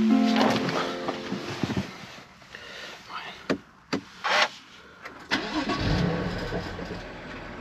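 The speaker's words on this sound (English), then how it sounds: "Let me start the car." A BMW M2 Competition F87 with a manual gearbox cranks and fires up, a short starter whirr and then sharp throaty revs that settle into a rumbling idle, loud and close.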